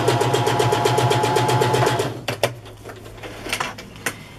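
Sewing machine stitching down a fabric collage pocket, a steady fast run of needle strokes for about two seconds, then stopping, followed by a few soft clicks and handling knocks.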